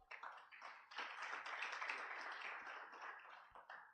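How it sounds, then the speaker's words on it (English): Audience at a business tax breakfast event clapping for partners, a steady wash of applause lasting several seconds, fairly distant and soft with no talk over it. "Let's give them a big clap."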